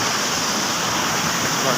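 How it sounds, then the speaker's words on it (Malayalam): Rushing floodwater in a swollen river gives a steady, loud broadband roar, close and unbroken throughout. "എരപ്പ് കേൾക്കുന്നില്ലേ വെള്ളത്തിൻ്റെ എരപ്പ്"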